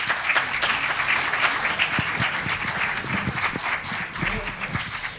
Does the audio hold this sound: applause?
yes